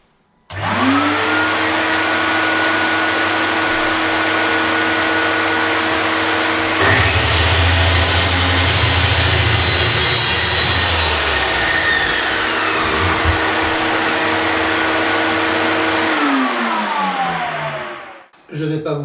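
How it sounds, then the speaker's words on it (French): A Parkside plunge saw with a guide rail spins up and cuts a small piece of wood while a vacuum extractor whines steadily alongside, a loud sustained motor drone that winds down near the end. "je mets l'aspirateur et je coupe le petit bout."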